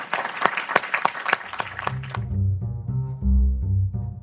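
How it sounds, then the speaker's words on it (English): A few scattered hand claps from an audience at a memorial event, sharp and sparse, quickly giving way to a swell of music. "Let's all join in one more round of applause"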